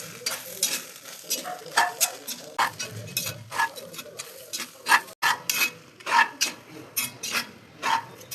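A spoon stirs peanut chicken biryani with ghee in a pot, giving a steady run of scraping, rasping strokes against the pot, close and fairly soft.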